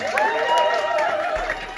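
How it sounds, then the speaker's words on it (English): Audience applause and cheering at a London cultural event at a cafe, a steady wash of clapping with crowd voices mixed in throughout. "Give yourself a round of applause for coming."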